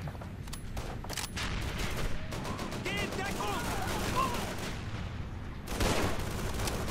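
Dense gunfire while shooting enemies in Call of Duty 3 comes as rapid shots and bursts over continuous battle noise, with a voice speaking over the shooting.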